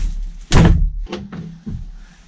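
A frozen door on a Citroen Relay camper van is slammed in the cold, one loud heavy thud followed by a few weaker knocks and thumps, close by with no talking.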